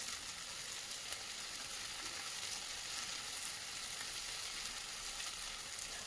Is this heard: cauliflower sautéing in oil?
yes